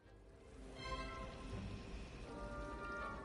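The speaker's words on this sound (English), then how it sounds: "I don't know if y'all can hear that, but that is a lot of hail" Dense, hard pattering of hail on a surface in the video game Hogwarts Legacy that builds up and stays heavy, with no voices.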